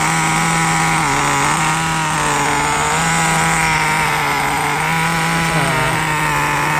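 A T-Maxx 2.5 nitro RC car engine idles high and runs continuously, a loud buzzing whine with small wavering shifts in pitch, heard up close with no other sounds.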